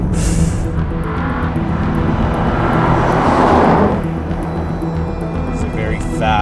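A 2025 Porsche Panamera GTS with a V8 accelerates hard, its loud continuous engine roar swelling to a peak midway, then settling to a steady drone.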